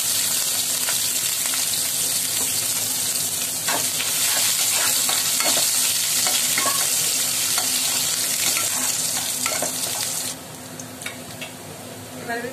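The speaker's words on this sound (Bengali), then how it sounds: "এবার আমি প্রথমে রসুনটা একটু ভেজে নেব।" Garlic frying in hot oil in a pan after dried chilli, bay leaf and black cumin, a loud, continuous close sizzle with stirring scrapes, easing slightly near the end.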